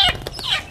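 A chicken on a farm gives a brief, close burst of clucking among young chicks and spurred roosters, just a few quick notes.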